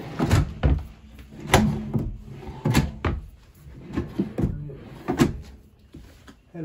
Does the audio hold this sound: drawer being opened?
yes